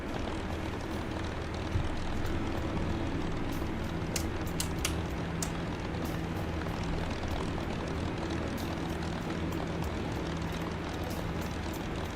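Aircraft engine roaring steadily with the throttle pushed forward in a flight video game, a constant loud drone with tonal hum running throughout, no talking.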